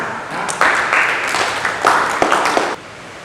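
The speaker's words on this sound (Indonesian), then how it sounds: "Terima kasih tepuk tangan." Applause in a classroom, a short burst of clapping from a group of students that swells in two waves and then stops abruptly.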